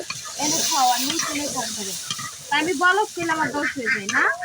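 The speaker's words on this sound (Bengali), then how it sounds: "একবারে মোটামুটি একবারে ভাজা ভাজা হয়ে আসতেছে, তেল ছেড়ে দিছে" Oil frying in a pan while cooking village-style noodles, a soft steady sizzle running beneath a person talking throughout.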